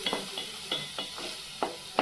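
Onion paste frying and sizzling in oil for a fish curry, with a steady hiss broken by repeated sharp scrapes of a spoon stirring against the pan, close and moderately loud with no talk.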